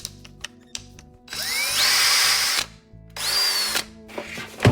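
A DEWALT 20V Max cordless drill whirs up to speed in two loud bursts, each winding up and holding a steady high whine before stopping, with a few sharp clicks and a low hum between runs.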